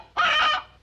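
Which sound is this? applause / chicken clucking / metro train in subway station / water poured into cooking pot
chicken clucking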